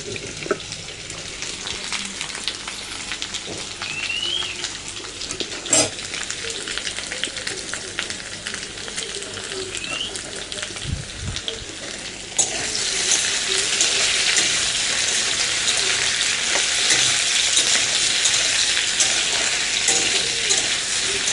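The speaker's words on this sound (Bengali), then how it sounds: "এখানে ডিম ভাজা করছি," Eggs frying in a pan in a home kitchen, a continuous close sizzle with faint clinks, growing louder and brighter halfway through as the frying intensifies.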